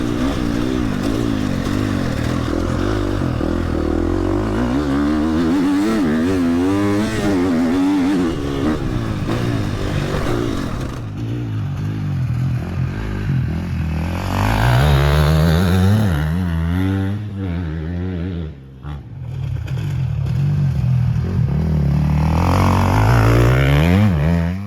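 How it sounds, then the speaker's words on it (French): An enduro or MX motorcycle climbs a big hill, its exhaust loud and close as the engine revs and labours in rising and falling waves, then surges again under heavy throttle. "derrière l'échappement avec la moto qui monte"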